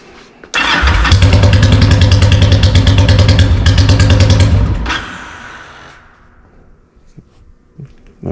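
Yamaha V-Star motorcycle engine with the choke on, firing up and running loud and close with a rapid, rough pulsing idle for about four seconds before cutting out and fading to quiet.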